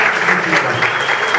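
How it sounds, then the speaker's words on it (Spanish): A studio audience at a televised interview show breaking into loud applause, a thick continuous wash of clapping heard close, with some voices mixed in. "Un fuerte aplauso"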